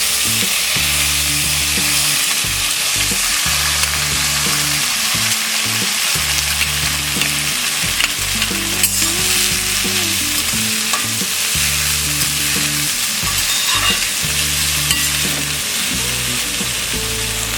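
Cluster beans fry and are stirred in a pan, a loud steady sizzle broken by repeated rhythmic scraping strokes of a spatula throughout, with no voices.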